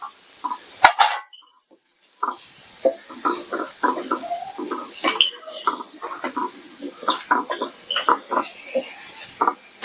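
Cleaned rambutan is stirred into a pickle mixture, a quick run of short scraping and clacking strokes in an irregular rhythm after a brief near-silent pause early on.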